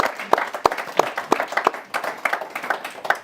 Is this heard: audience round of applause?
yes